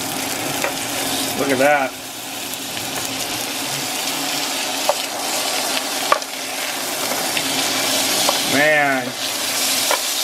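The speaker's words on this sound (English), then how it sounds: "Time to flip these steaks." Steaks sizzle steadily in a hot pan, a loud continuous frying hiss with brief clatter as they are flipped, while a man briefly remarks over the cooking.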